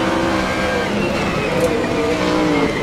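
Race cars battle wheel to wheel around Zandvoort in a Gran Turismo race, engines droning and whining steadily at close range for the whole stretch, with layered revs from several cars and no pauses.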